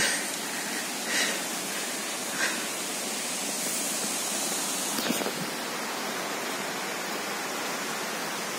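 Water pours steadily down a forest waterfall beside the small Bhimeswarar temple, a broad, constant roar with a couple of faint knocks.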